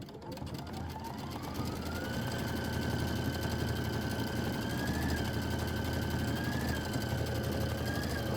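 A Kimberbell embroidery machine stitching a quick quilting stitch on a ladder quilt panel, running with a steady rapid mechanical hum and rattle, loud and close, with the motor pitch gliding up and then shifting slightly.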